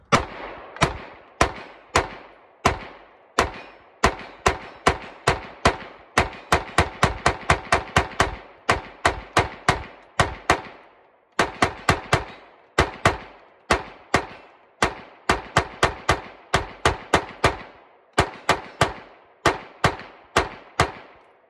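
Shots ring out from a Canik TP9 pistol fed by a 50-round drum magazine, dozens of sharp, loud reports fired in quick strings with short pauses, close and echoing, no talking.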